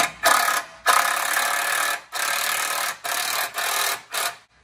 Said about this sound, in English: just take a 13mm socket to tighten them down